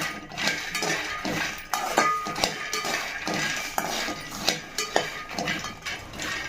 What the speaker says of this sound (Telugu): స్టవ్ పై కర్రీ పెట్టుకొని పూల్ మక్కనని ఆయిల్ వేయకుండా ఒకసారి